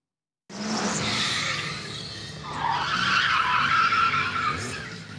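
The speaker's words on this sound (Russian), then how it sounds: "Рев моторов и запах жженой резины – это автогонщики соревнуются в мастерстве маневренности на огромной скорости." Race cars at a drift competition in Ukraine skid with long tire squeals over roaring engines, loud and continuous after a brief silence, the squeal rising and swelling near the end.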